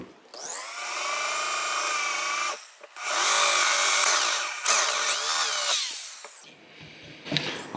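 A power drill with a reverse drill bit whines loudly in several bursts, grinding against hard metal on a 1971 Honda SL125 motorcycle, with shifting pitch, pausing briefly between runs.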